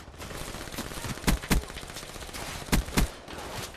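Gunfire in the video game Call of Duty: Black Ops 3, with a dense continuous rattle of automatic shots and two pairs of louder, punchier bangs standing out above it.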